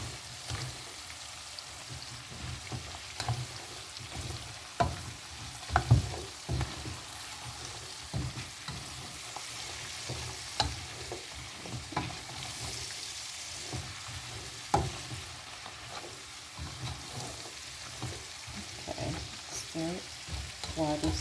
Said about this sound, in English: You want to fry your greens